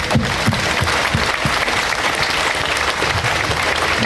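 An audience applauds neighborhood committees at a rally to save the Hôtel-Dieu hospital in Paris; loud, sustained clapping from a large crowd continues without a break for several seconds.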